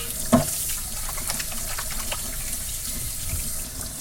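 Hot tap water runs steadily over a live eel as its slime is rinsed off at a sink, a continuous near splashing flow with a brief louder knock early on.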